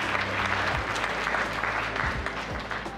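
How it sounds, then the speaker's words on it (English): Steady applause during an annual report presentation, moderate and continuous over a low background hum, with no talking on top. "So you can give yourselves a big round of applause for that."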